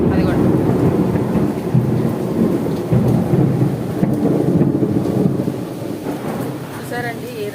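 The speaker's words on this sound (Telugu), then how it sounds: "అసలు పెద్దగా ఉరుములు వస్తున్నాయి అనమాట." Heavy rain pours steadily and loudly through the whole stretch, with low thunder rumbling beneath it during a morning storm; a voice comes in faintly near the end.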